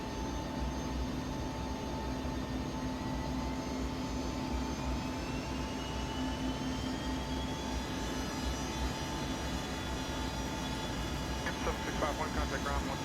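Inside the cabin of an ERJ 145 jet taking off, a steady loud engine roar with a high whine holds throughout, with faint talk beneath.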